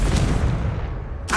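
A Confringo spell fired in a Harry Potter-style video game lands as a loud, close blast with a heavy low rumbling burst that fades out, followed by a brief sharp crackle at the end.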